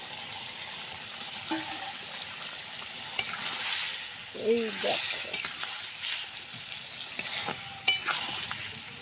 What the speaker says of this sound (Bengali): এবার আমি ফুলকপি ভাজাগুলো দিয়ে দিলাম।